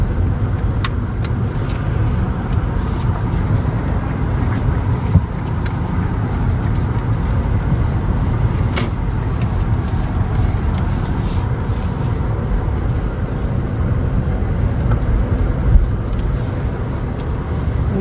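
Steady road noise from inside a moving car, a continuous low rumble and hiss of tires with heavy traffic around road works, no talking.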